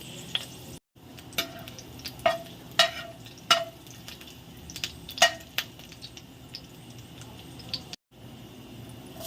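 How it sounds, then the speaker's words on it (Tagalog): Garlic browns in cooking oil with a soft, steady sizzle, punctuated by several sharp clinks and taps of a utensil against the pan, close by with no speech. "Now let's brown the garlic."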